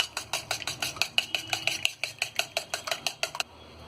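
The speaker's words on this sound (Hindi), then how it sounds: "अब इसे हम अच्छी तरह मिक्स कर लेंगे" A utensil stirs and mixes chicken marinade in a bowl, giving quick, regular clinks against the side, about five per second, close and fairly quiet, before stopping abruptly.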